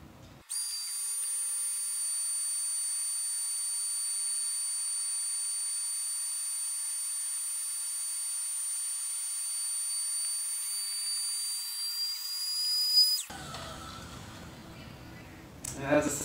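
Electric air pump inflating an ALPS Mountaineering Vertex air bed, a steady high whine and hiss running for about thirteen seconds before cutting off, followed by faint handling sounds.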